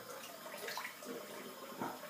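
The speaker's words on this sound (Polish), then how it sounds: "Spłukuję pozostałości mydła." Water splashes as shaving soap is rinsed off a face after a wet shave, a few uneven close scoops and splashes over running water, with no talking.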